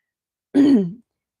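A single short, throaty cough, like a throat being cleared, heard up close with silence on either side.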